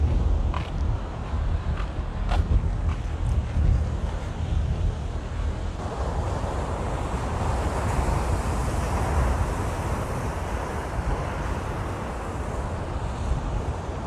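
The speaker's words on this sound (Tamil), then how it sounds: "இப்போ அந்த உப்பு காற்று சாரில் அடிச்சுக்கிட்டே இருக்குது." Salty sea wind blows hard at the coast at Kanyakumari, a loud, continuous roaring rush that buffets the microphone, with surf-like noise underneath.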